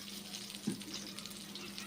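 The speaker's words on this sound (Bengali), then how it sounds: "বেগুনগুলো ভেজে নিচ্ছি দু পিঠ উল্টে বেগুনগুলো ভেজে নেব" Eggplant slices frying in hot oil in a wok, a soft continuous sizzle heard up close with one brief louder crackle, and no voices over it.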